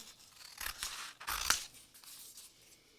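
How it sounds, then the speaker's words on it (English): Scissors snip through thick glued black cardstock in a few close, crisp cuts, the two strongest near the middle, in a quiet room. "I'm going to cut this down"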